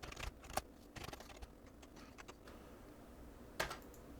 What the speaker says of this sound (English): I'm going to click in the file name here and type in my name.